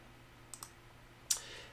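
A mouse button clicks twice in quick succession, faint and close, followed by a sharper, brighter click a moment later against a quiet room hum.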